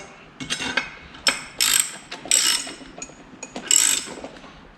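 A stud remover tool with three roller pin jaws ratchets on engine studs during turbo mounting, giving a series of crisp, close metallic clicks in irregular bursts, with no talk.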